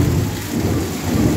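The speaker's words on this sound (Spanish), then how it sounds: "Un trueno y rayo." A loud rumble of thunder rolls over heavy rain falling on a house during a storm, deep and sustained with the downpour hissing throughout.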